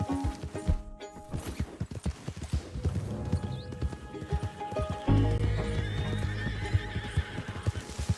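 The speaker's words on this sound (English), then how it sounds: "My horse ran away!" In the video game Red Dead Redemption 2, a horse whinnies amid clopping hooves and busy clattering, with a loud, steady rumble taking over partway through.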